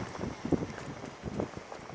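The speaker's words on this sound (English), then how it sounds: "It is nice and windy." Steady gusty wind at the edge of Death Valley in summer, rushing and buffeting the microphone with uneven surges and no talking.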